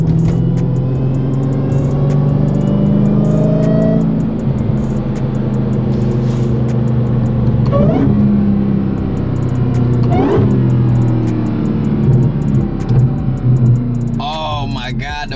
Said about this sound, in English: I'm gonna pull over and give y'all a couple revs so y'all can hear exactly how it sounds